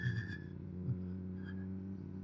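A motorcycle engine runs steadily while the bike is ridden, a faint, even drone with a low hum that barely changes.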